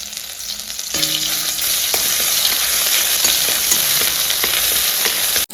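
Ground spice paste hits hot oil in a pan with a sudden loud hiss about a second in, then fries with a strong, steady close sizzle and occasional stirring clicks until it cuts off.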